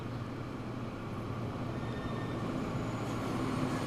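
A train in the Transport Fever video game runs along its rail line, a continuous rumbling roll with a faint metallic whine, steady and unbroken, no talk.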